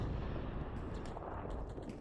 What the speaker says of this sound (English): Oh, it's an AT gun by Travian Striker.